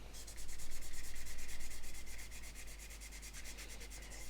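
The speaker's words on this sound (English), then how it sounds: "then just get a nice little microfiber cloth. Just gently buff it." A microfiber cloth gently buffing WD-40 residue off the painted plastic of an Airfix Mosquito PR XVI model aircraft, a steady close rhythmic rubbing that starts strong then eases to a softer, continuous swish.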